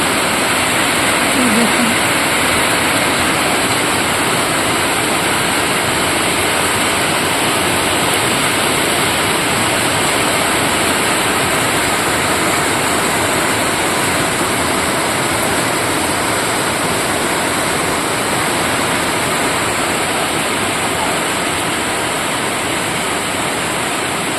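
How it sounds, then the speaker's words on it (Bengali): Heavy rain pours down in a steady, dense roar that fills the whole clip without letup. "ভালোই জোরে বৃষ্টি হচ্ছে বন্ধুরা"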